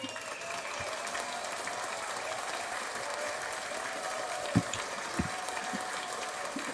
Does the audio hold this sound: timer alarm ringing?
no